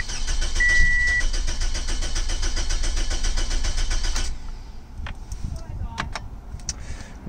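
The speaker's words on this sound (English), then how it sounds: "Will the car start?" A car engine cranks steadily for about four seconds without catching, its starter whirring in a loud, even rhythm before it cuts off and leaves a quieter scene with faint clicks.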